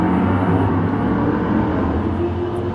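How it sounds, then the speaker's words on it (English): Steady engine roar from cars drag racing on the street, a continuous low rumble heard from a distance through the walls. "There's some people who like to drag race up and down the street."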